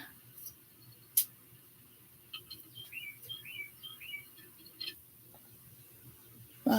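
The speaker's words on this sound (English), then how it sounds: "Wow, that bird's outside." Small bird chirping outdoors in Atlanta, a run of short high tweets in the middle, faint and somewhat distant over a low background hum, with a couple of sharp clicks.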